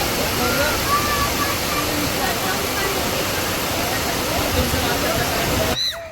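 Rushing water swollen after heavy rain, a loud, steady roar of flowing water that fills the whole scene, then cuts off abruptly at the end.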